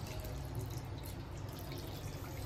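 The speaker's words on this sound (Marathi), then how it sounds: "पाणी टाकूया आपण." Water is poured into a pot of prawn curry with potatoes, a soft, continuous splashing trickle heard close but fairly quiet, with no talking.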